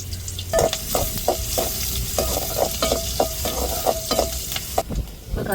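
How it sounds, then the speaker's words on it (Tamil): Mustard seeds and onion crackle and sizzle in hot oil for a South Indian tempering, with a steady close fry punctuated by a run of quick, evenly spaced metallic clinks from stirring. "இப்போ கடுகுலந்து சேர்த்துக்கிடுவோம். அப்புறம் வெங்காயம் சேர்த்துக்கிடுவோம் தாளிப்புக்கு."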